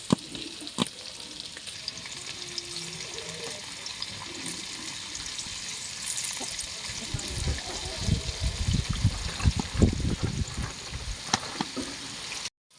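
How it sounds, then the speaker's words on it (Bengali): Cornflour-coated paneer frying in a wok for chilli paneer, with a steady hiss and sizzle that swells louder toward the end, along with occasional stirring scrapes and a faint voice in the background. "কর্নফ্লাওয়ার মিশিয়ে তারপরে ভাজবো এবার কড়ার মধ্যে দিয়ে দিচ্ছি"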